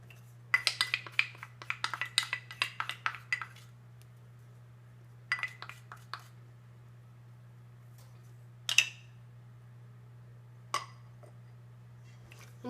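Whoopie pie ingredients with espresso powder mixed in a bowl, heard as scattered clinks and scrapes of a utensil against the bowl in short bursts separated by pauses, over a low steady hum.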